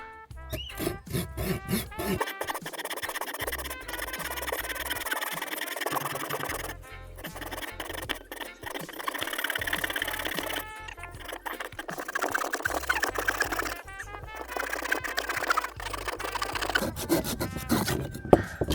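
A Conifer Cone Butterfly folding saw cuts through wood for campfire kindling, producing steady rasping strokes in long runs broken by brief pauses, close and fairly loud throughout.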